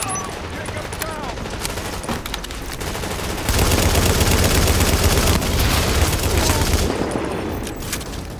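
Gunfire aimed at a turret in the video game The Division, a dense sustained fusillade of automatic shots that swells loud midway and carries under faint background voices.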